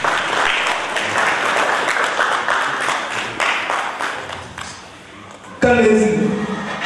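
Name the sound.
audience applause at trophy ceremony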